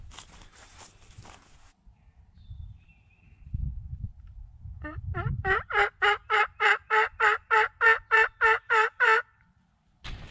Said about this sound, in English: Go up here and see if any turkeys will answer us.